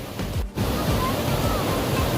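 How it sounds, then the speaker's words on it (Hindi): A river swollen with rainwater rushes in a loud, steady roar of churning flow, close and continuous throughout. "ये एक दरिया है जिसमें बरसाती पानी जो है ना वो आ रहा है"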